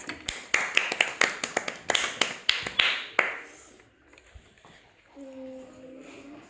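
Children clapping together in a classroom, a quick run of sharp, uneven claps for about three seconds before stopping, followed by quiet room noise and a brief tonal sound.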